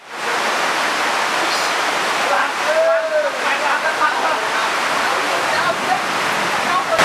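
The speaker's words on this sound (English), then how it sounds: "There's literally a new river that has formed." Water rushes steadily in a newly formed river on Koh Rong Island, a broad, loud, continuous roar heard up close, with a brief voice and faint movement in the background.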